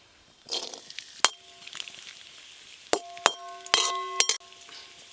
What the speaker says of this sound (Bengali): কিশমিশগুলোও হালকা করে ভেজে নেব।